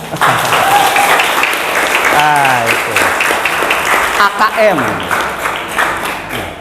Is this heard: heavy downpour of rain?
no